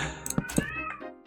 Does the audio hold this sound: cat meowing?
yes